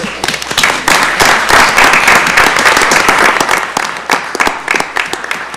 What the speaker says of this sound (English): I'd like to give Derek a huge round of applause for.